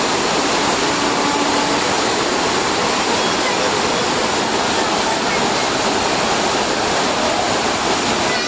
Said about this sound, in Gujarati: બહુ જોરમાં વરસાદ પડે છે,